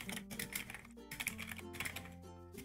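Rapid keystrokes on a computer keyboard, typed in quick irregular bursts up close with brief pauses, no voices.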